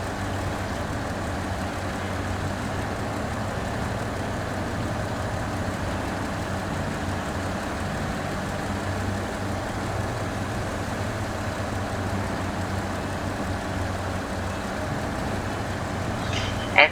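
A Tega truck with its stock engine strains to haul a trailer uphill on a mine delivery in a driving game, making a steady, loud, low droning rumble that continues unbroken without talk.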